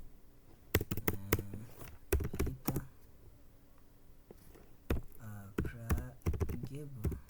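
A command being typed on a computer keyboard while setting up an Oracle database on Linux: quick clusters of close, crisp keystroke clicks with short pauses, and a voice speaking in places.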